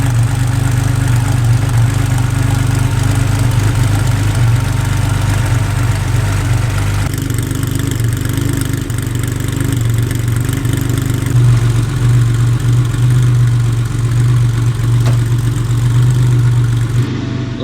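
A freshly built Porsche 964 engine in a 6-speed swapped car runs steadily and loudly at close range, holding a deep, even idle with slight shifts in tone throughout and no voices.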